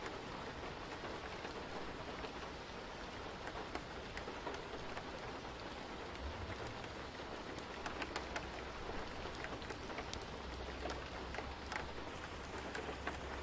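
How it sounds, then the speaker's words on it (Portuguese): Light rain patters steadily on the roof tiles of a school building, a soft, continuous wash of drops with a faint low rumble creeping in underneath partway through. "Acordei com o som da chuva fraca batendo nas telhas do colégio."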